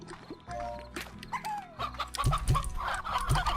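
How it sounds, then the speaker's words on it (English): Chickens clucking in the video game Slime Rancher, several short clucks and squawks in quick succession, fairly close, with a bright chirping rise midway and no talk over them. "Put these hens away."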